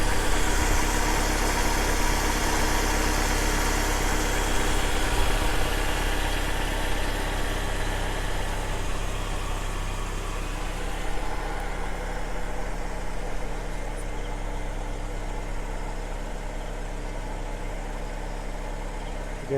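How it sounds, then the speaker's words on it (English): Mercedes-Benz W202 C180 petrol engine idling evenly in the open, a steady low hum with smooth, unbroken rhythm and faint mechanical whir, no voices present. "look how smooth that engine is running"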